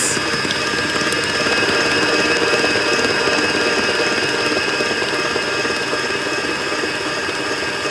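An electric mixer whirs steadily at its highest speed, beating brown sugar cupcake batter in a continuous, dense mechanical drone with no pauses.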